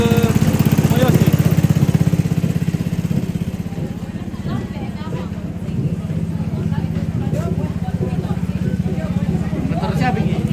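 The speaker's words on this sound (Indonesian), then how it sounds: "Motor siapa ini?" A motorcycle engine idles steadily throughout, a low continuous throb with people chatting nearby over it.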